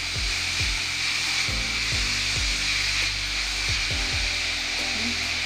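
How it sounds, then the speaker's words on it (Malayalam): Salted cassava mixture for cutlets stirred in a pan, with a steady frying hiss throughout and a series of regular scraping strokes of a spoon against the pan, close and continuous. "ഇത്രയും ഉപ്പ് ചേർത്ത് കൊടുത്ത് ഇളക്കി കൊടുക്കാം"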